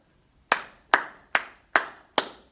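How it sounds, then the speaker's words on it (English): Hands clap a rhythm pattern in a music lesson: five sharp, even claps, close and clear, spaced about a beat apart with silence between. "Clap it."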